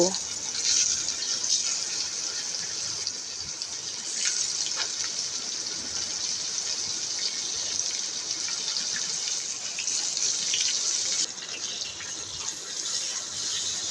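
Spiced eggplant pieces, rubbed with salt, turmeric and chili powder, fry steadily in hot oil in a pan, giving a continuous bright hiss and crackle throughout without pause.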